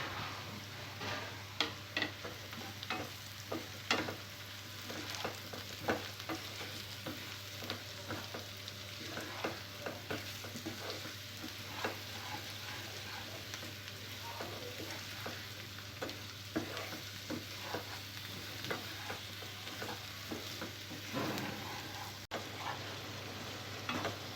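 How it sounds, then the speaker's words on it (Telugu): Mushrooms fry in oil with ginger-garlic paste for a masala curry, a continuous quiet sizzle broken by frequent light stirring taps and scrapes throughout, with a low steady hum underneath. "మష్రూమ్ ఆయిల్లో కొద్దిగా ఫ్రై అయిన తర్వాత"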